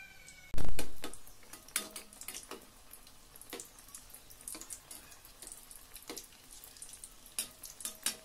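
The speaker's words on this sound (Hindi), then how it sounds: "सभी बड़ा को इसी तरह से डाल देंगे और उलट पलट कर छान लेंगे।" Dahi vada batter drops into hot oil with a sudden loud sizzle burst that fades, then crackles and bubbles steadily, punctuated by soft clicks and splashes as more pieces go in.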